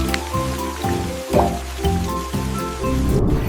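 Rain falls as a steady soft patter under bright, rhythmic children's music that dominates the short passage.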